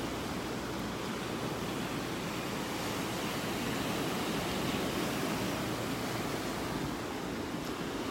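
Ocean waves and surf on a beach in North Naples, Florida, heard as a steady, continuous broadband wash of breaking water with no voices, rolling evenly throughout.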